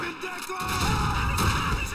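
Grenade blast in the World War II shooter Call of Duty 2, a sudden low boom at about half a second that swells into a sustained rumbling roar of debris and battle noise, loud and close.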